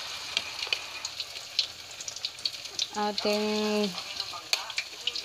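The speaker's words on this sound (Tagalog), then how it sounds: "Piprito na natin tong sumang malagkit natin" Sticky rice turon (suman malagkit) frying in hot oil, a steady sizzle and crackle with a brief tonal kitchen beep partway through, while someone talks over it nearby.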